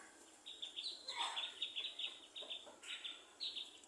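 Small birds chirp outdoors near a guava tree, a rapid series of high tweets in bursts at moderate distance, fairly faint, with no talk.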